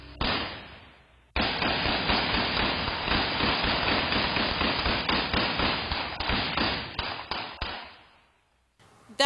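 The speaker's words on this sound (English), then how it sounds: "gunshots ring out" A long, rapid burst of gunshots, dozens of sharp cracks in quick succession, loud and sustained for several seconds before cutting off.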